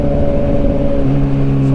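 Kawasaki Ninja ZX6R inline-four held at a steady, loud, close idle-to-mid rev with a smooth humming tone, shifting pitch slightly partway through.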